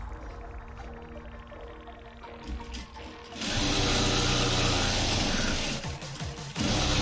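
Sewing machine stitching a Bombay katori blouse, a soft ticking run that breaks into a loud, fast, steady mechanical whir of stitching, pausing briefly before resuming.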